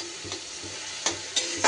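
Ground spices sizzling in a pan with a little water added for an okra curry, a steady close fry hiss broken by a few scraping stirs of the spoon, with no voices.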